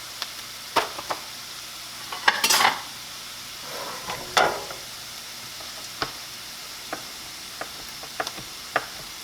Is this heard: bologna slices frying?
yes